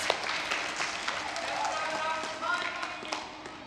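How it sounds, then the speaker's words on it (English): A room of children at a Vacation Bible School closing worship gives a round of applause, with dense clapping and scattered cheering and chatter spread across the space. "Give yourselves a round of applause"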